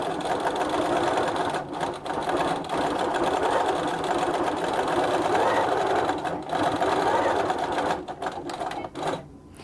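A sewing machine stitches fast and steadily without engaging its stitch regulator, a dense rattling stitch sound close up, pausing briefly a few times near the end.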